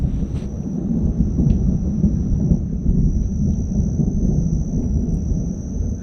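Thunder from a storm over the ocean, heard from a beach, rolling as a low continuous rumble that stays loud and steady throughout, with no talk.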